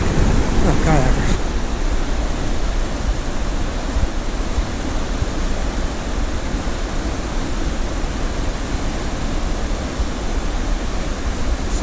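River rapids at McConnells Mill, a loud broadband rushing roar of whitewater that stays steady and close throughout, with a brief wind-buffeted burst at the start.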